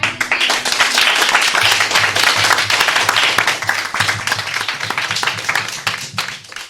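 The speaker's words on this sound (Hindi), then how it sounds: "एक बार जोरदार तालियां हमारे इस कलाकार के लिए।" Sustained audience applause at a children's school program in India, greeting a young performer who has just sung; dense, steady clapping fills the whole stretch, loud and close, with no speech over it.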